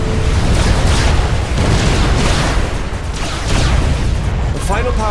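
A power source is destroyed in a Supreme Commander 2 sci-fi cutscene, with loud, continuous rumbling explosions and bursts rolling over each other under a dramatic soundtrack.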